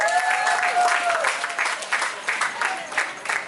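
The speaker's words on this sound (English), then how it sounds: "Big round of applause" Crowd applause at a political rally in a high school venue, a steady wash of clapping under occasional whistles or cheers, fairly loud throughout.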